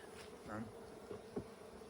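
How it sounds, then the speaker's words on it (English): Honey bees buzz around a hive frame with a steady, close, low hum and a few louder passes as individual bees fly near. "See, this bee is working. She's working on the honey."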